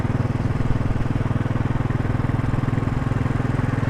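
Royal Enfield Desert Storm motorcycle engine on a test ride, a steady rhythmic thumping drone with even pulses, close and constant with no change in pace.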